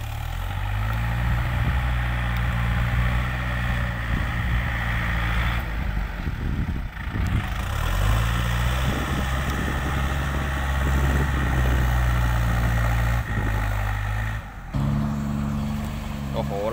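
A tractor engine labours while pushing soil and towing a vehicle, a loud steady low rumble with a droning hum that dips briefly in places and holds throughout.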